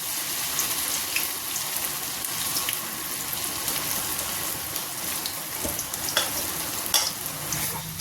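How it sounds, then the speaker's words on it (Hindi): Puris deep-frying in mustard oil, a steady close crackling sizzle running throughout with small pops and bubbling, no voices. "मैंने दोस्तों सरसों के तेल में पूड़ियाँ बनाई हैं।"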